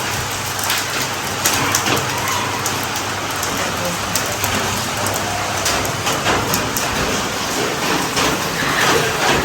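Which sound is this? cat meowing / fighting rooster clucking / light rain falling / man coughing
light rain falling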